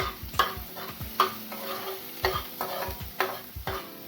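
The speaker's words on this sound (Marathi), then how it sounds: "कारण मिरची ही पूर्णपणे व्यवस्थित परतली गेली पाहिजे" Green chilies fry with a steady low sizzle in a pan while a spoon scrapes and stirs in repeated rhythmic strokes, close and clear.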